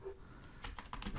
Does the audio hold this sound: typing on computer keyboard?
yes